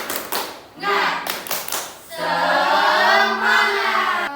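A classroom group claps a rhythmic tepuk semangat chant together, sharp in-unison claps in a quick pattern followed by a shouted group cheer, close and loud.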